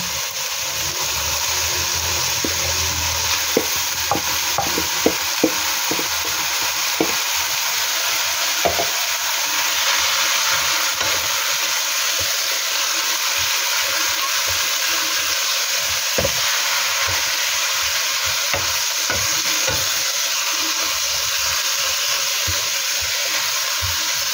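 Pickled mustard greens stir-fried with browned ground pork in a hot pan, giving a steady close sizzle and hiss that runs the whole time, with scattered clinks and scrapes of the utensil stirring.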